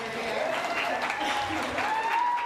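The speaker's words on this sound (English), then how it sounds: "I think we should clap for this little hottie over" Wedding guests clap during a toast, a brief burst of mixed applause heard close in a reception room, with a voice talking over the clapping.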